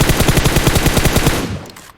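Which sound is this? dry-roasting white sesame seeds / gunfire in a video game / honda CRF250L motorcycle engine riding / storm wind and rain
gunfire in a video game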